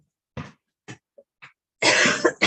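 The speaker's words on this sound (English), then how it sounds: "Got a little cough." A person gives several short dry coughs spaced apart, then a louder, longer fit of coughing and throat clearing close to the microphone, with no talk.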